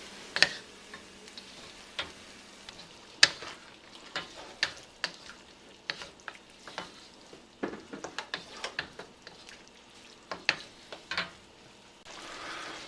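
A cornstarch-thickened sauce for ribeye Philly cheesesteaks coming back to a boil in a pan, heard as a soft bubbling sizzle under frequent uneven ticks and spoon taps that cluster toward the end, close and quiet, no speech.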